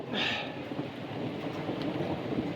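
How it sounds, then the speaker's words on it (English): Thunder rumbles low and continuous under steady rain during a thunderstorm with a tornado watch in effect, with a brief brighter hiss at the start, heard from moderately far. "it's starting to pick up here a little bit more, and it's thundering a little bit more"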